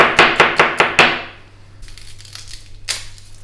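Vegetables for gazpacho are chopped coarsely with a knife on a board, five quick sharp close chops in a row, then quieter scattered knocks and shuffling.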